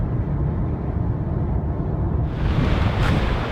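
Wind gusts and ocean surf at Pescadero State Beach, a steady loud low roar of wind buffeting the microphone with the wash of waves beneath, brightening into a hissier surge partway through, with no voices.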